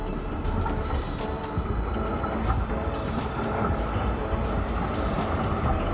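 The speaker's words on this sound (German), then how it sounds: "Denn hier fährt die Straßenbahn um das Max-Monument drumherum." A Munich tram rumbles steadily along its rails around the Max Monument, with a continuous low clatter and rolling noise that stays close and fairly loud throughout.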